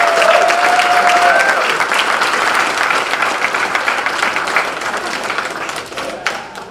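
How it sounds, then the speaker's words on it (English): Sustained audience applause for hall of fame inductees at a Woburn induction event, many hands clapping in a steady, full wash that slowly thins toward the end, with a faint whistle early on. "let's kick things off with a round of applause for tonight's inductees."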